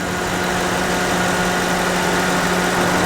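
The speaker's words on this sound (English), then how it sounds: "You can hear that fan on." Cooling fan running at idle on a RAM 2500 HEMI pickup with a ZF 8-speed after towing up a grade, a loud, constant whirring roar with a steady low hum, close and unbroken.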